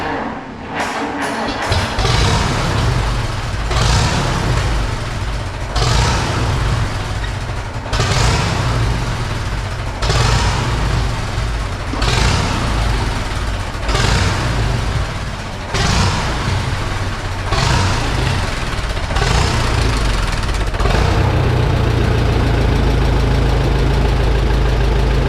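A 1949 JI Case LA tractor engine cranks and catches after a brief start, then runs loud and close in a steady idle. The engine's rough rhythm surges and dips, with the throttle rising near the end.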